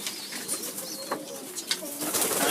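Pigeons coo close by in a loft, their soft throaty calls overlapping in short repeated phrases against a faint background hiss.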